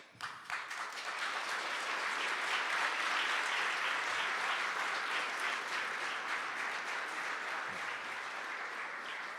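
Audience applause fills the room at a security policy event on the war in Ukraine, a dense, steady burst of many hands clapping that swells quickly and holds evenly, moderately distant and with no talk over it.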